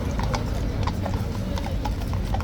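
Police horses walking on a hard street surface, their hooves clip-clopping in a brisk, uneven rhythm close by, set against a steady crowd murmur.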